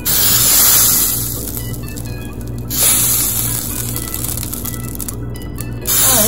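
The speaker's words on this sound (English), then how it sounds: "so we're gonna spray it" Loud hissing bursts of cooking oil sprayed onto a hot waffle iron over a steady low hum, two long sprays separated by short pauses, close by.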